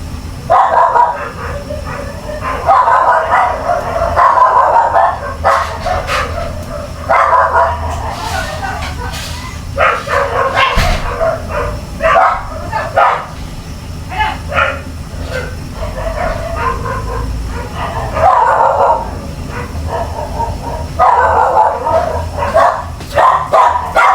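Several pet dogs bark in repeated bursts close by at home, with yips and whimpers mixed in, while people talk over and between the barks.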